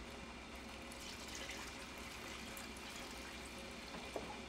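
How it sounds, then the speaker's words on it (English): Water pours from a large Brita pitcher to top off a container, a faint, steady trickle and gush of liquid filling at close range. "I'm gonna grab some water from here. This is my mega Brita."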